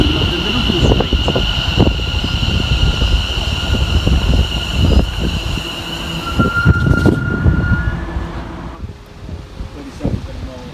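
Greater Anglia train 72139, working a Colchester to London Liverpool Street service, rumbles past loud and close on the Great Eastern Main Line, wheels clattering and squealing over the rails, with voices talking beneath the noise.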